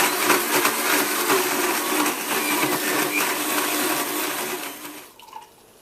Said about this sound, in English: Just blend this on high until it's smooth-delicious